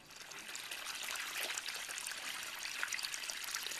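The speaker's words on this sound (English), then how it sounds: "here you see the gray water coming out of the fig tree pipe to irrigate the basin" Gray water from a washing machine drain hose pours out of a pipe into a fig tree irrigation basin, a steady close trickling and splashing flow with no talking.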